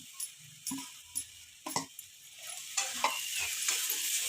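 Grated coconut stirred into a melting, sizzling mixture in a pan, a string of scraping spoon strokes at an uneven pace over a faint, rising sizzle, close and alone.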